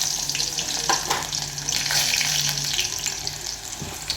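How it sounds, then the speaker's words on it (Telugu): Onions going into hot oil for uggani, with a close, steady sizzle and a few soft knocks and stirs. Nobody speaks. "ఇప్పుడైతే ఆయిల్ పెట్టేశాను. ఇందులో ఉల్లిపాయలు వేస్తున్నా"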